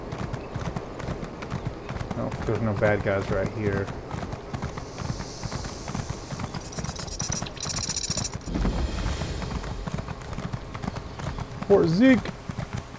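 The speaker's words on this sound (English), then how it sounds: "so we can get on the horse now." Horse hooves clip-clop at a steady pace in the Elder Scrolls Online video game, beneath a player's talk, with a brief whinny near the end.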